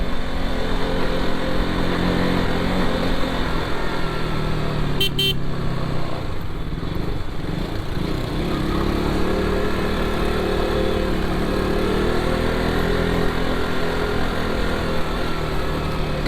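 Busy road traffic in Mumbai, with steady engine rumble from cars and motorbikes passing close by and a brief horn-like tone in the middle, continuous and loud throughout.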